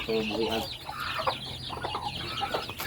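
Native chickens in a small poultry yard cluck in quick, close bursts, with short repeated calls overlapping across the few seconds.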